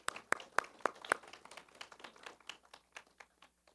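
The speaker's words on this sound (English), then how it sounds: "let's give her a round of applause" An audience claps after a speaker asks for applause at a faith-and-science talk: a fairly faint, short round of scattered hand claps that thins out and fades over a few seconds.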